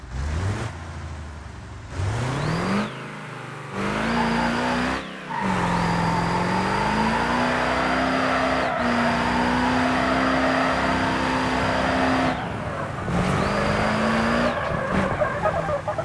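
Racing-game car drifting through corners, engine revving hard with pitch rising and falling across gear changes while long tire squeals wail over it, broken by brief pauses, loud and close with no voices.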